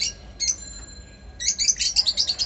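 A pair of lutino red-eye lovebirds chirps in short, high, bright bursts, a brief call early on and then a rapid run of chirps, close by with no talk.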